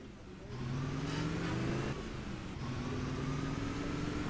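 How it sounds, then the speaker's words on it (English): A car in the video game Just Cause 2 drives with a steady, mid-pitched engine drone that rises slightly as it accelerates and holds through the clip, close and fairly loud. "I'm driving with this car because this car looks better for the tracks"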